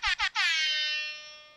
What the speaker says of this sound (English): That's the episode 10 air horn.